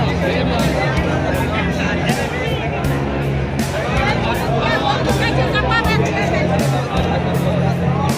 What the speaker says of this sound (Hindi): थोड़ा सा भीड़ यहाँ पर भी है